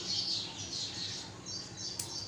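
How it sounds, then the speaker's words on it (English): Birds chirping and tweeting in the morning, a steady scatter of high, light calls over a soft background hum. "It is the morning time when we hear the birds chirping"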